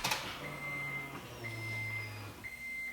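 A 340 LPH fuel pump primes in an 8th-gen Honda Civic, giving a low electric hum in two short runs alongside a thin, steady high whine, close and fairly quiet.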